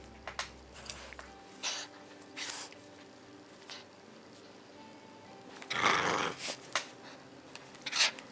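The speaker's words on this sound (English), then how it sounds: "Time to take a break and play with my little dog." A small dog playing, with low growls, snorts and panting breaths in short bursts, close by and fairly quiet.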